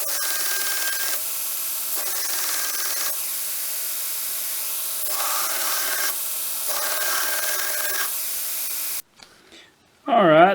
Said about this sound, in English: So we're going to take this over to the grinder and we're going to try to flatten all of this out on both sides